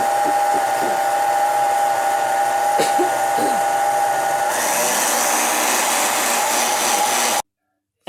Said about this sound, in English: I'm going to blend it in my blend tech.